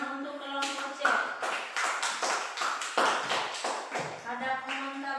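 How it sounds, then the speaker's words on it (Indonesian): A classroom of students applauds for group C, with a burst of scattered, fairly close hand claps running a few seconds while a voice speaks over the start and end. "beri tepuk tangan untuk kelompok C"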